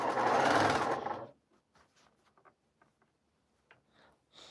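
Quilt fabric runs through a sewing machine in one loud, brief burst of about a second, followed by near silence and a few faint clicks and handling noises.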